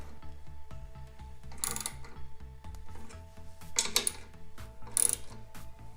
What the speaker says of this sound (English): now I'm gonna go ahead and torque them to spec